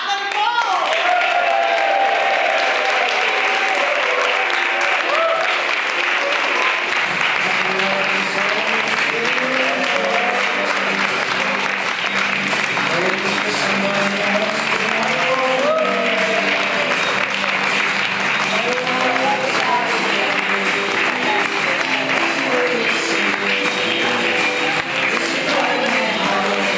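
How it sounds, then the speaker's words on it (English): Wedding guests applaud the bride and groom with loud, sustained clapping and cheering from a large crowd that fills the room, and voices are heard within the applause. "please put your hands together and give the biggest cheer for the happy couple, Cath and Paul"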